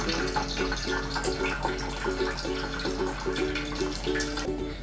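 Water spills over the rim of a Pythagoras justice cup, a toy cup, in a steady continuous wash of pouring and trickling, with a faint tonal hum in the background.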